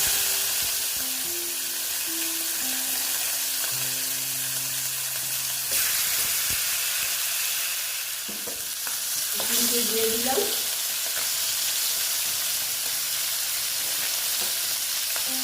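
Steady, close hissing sizzle of boal fish with turmeric frying in hot oil, continuous throughout with occasional faint clinks and tones in the background.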